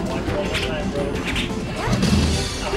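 Forward smash attacks land in a Project M match, a dense run of hard impact thwacks and whooshes amid game music and commentator chatter that continues throughout.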